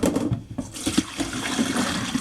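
Water sloshes and swirls as vegetables are swished around in a bowl, making a steady, close wash of liquid with a few splashy surges near the start.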